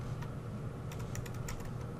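Quick keystrokes on a computer keyboard as a command is typed into design software, a few faint clicks clustered near the end over a steady low hum.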